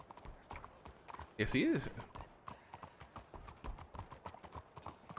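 Hooves of Gumdrop, a horse in the WildRP video game, clip-clop in a steady repeated rhythm at close range, with a short louder burst near the middle, as people talk over them.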